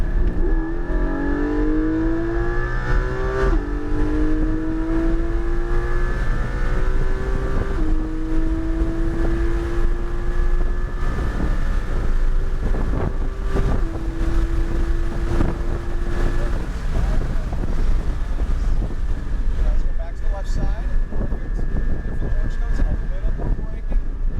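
A high-revving car engine pulls hard through repeated upshifts on a race track, pitch rising and dropping, with steady wind rush and occasional talk over it.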